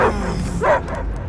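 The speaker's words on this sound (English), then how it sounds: "I hear only barking" Cosmo the space dog from the Guardians of the Galaxy game lets out a few close, sharp barks and yips in quick succession over low ambient rumble.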